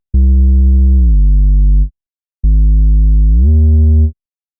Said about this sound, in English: I'm using a dirty filter in Vital because it adds a lot of distortion to your sound